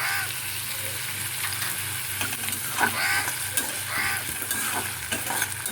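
Tomatoes frying in a pan for a hot and sour tilapia fish curry, a close, steady sizzle with scraping stirs of a spatula and occasional clinks, no voices.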